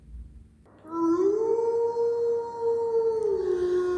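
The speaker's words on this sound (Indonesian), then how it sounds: "Tiba-tiba terdengar suara anjing hutan yang mengaum sangat keras" A wild dog in dense forest lets out one loud, sustained howl that rises and holds steady for about three seconds before tailing off, clear and close.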